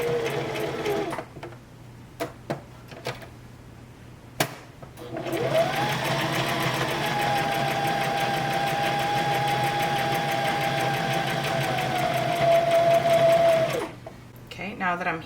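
A sewing machine zigzag-stitches fabric for an owl stuffy, starting with a few short bursts and clicks, then running steadily at close range as a sustained whirring hum before stopping.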